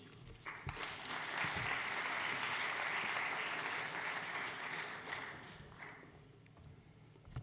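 A forum audience in Pau applauds a speaker from the Bellona organization, with a burst of clapping that swells quickly, holds steady, then thins out toward the end.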